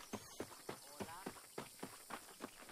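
Horse hooves clip-clopping at a steady trot in the Western video game Red Dead Redemption, a regular run of distinct hoofbeats at moderate distance, fairly quiet, with a voice speaking over them.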